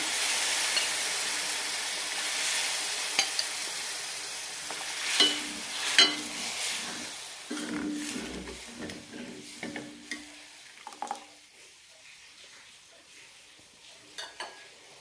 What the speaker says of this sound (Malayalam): ഇനി ഇതിലേക്ക് രസം ഉണ്ടാക്കിയത് ഒഴിക്കാം. എല്ലാം ഒഴിക്കണമെന്നില്ല, കുറച്ച് ഒഴിച്ചൊന്ന് തിളപ്പിച്ചെടുക്കാം.